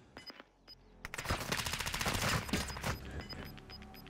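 Gunfire in the video game Warzone 2: a few separate sharp shots open, then a long, dense burst of rapid automatic fire follows. It fades into scattered cracks, loud and close.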